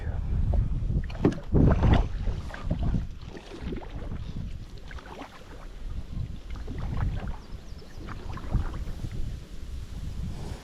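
Wind buffeting a fishing boat out on a lake, a steady, rough rush and roar with heavy gusts peaking early on, carrying on loudly throughout.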